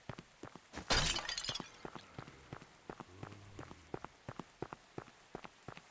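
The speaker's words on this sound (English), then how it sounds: "I like smashing pots." Clay pots shattering in the video game The Last Faith: one loud crash of breaking pottery, followed by a run of quick, crisp footsteps and small debris clicks.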